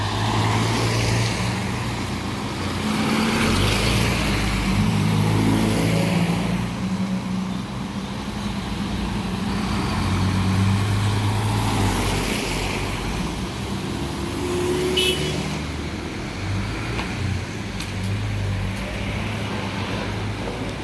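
A Swanbrook Irizar coach, registration YT65BYR, runs on route C52 from Cheltenham Racecourse Park and Ride; a diesel engine rumbles steadily nearby, rising and falling as it moves past along the street.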